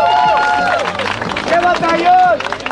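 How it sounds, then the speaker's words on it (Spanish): An audience at a battle rap competition applauds four rappers, with dense close clapping and cheering mixed together and loud voices talking and shouting over the noise of the crowd. "un aplauso para ellos cuatro"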